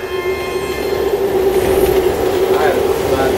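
A train passes in Resident Evil 6 with a loud, sustained rumbling roar, metallic wheel squeal and a rising high screech near the end, close and continuous throughout.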